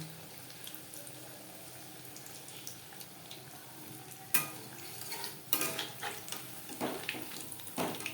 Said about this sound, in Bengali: হাই ফ্লেমে তেলটা গরম করে নিয়েছি পাকোড়াগুলো ভাজবো মিডিয়াম ফ্লেমে